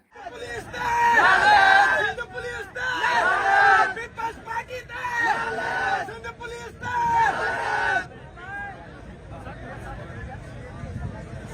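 A crowd at a protest sit-in in Karachi shouts hostile slogans as Mayor Murtaza Wahab arrives. Loud overlapping voices rise and fall in surges over a busy background of chatter and traffic, then thin out toward the end.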